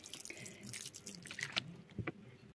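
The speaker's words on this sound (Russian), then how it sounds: "И сразу же проливаю горячей водой с марганцем" Hot water mixed with potassium permanganate poured onto potting soil while transplanting bell pepper seedlings, heard as close splashing and dripping trickles with a few brighter drops near the end.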